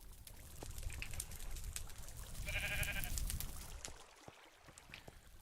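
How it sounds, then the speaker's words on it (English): A sheep in Minecraft (Oceanblock 2) bleats once, briefly and fairly clearly, mid-clip over low background noise and faint game sounds. "All right, sheep, you cannot be in my house."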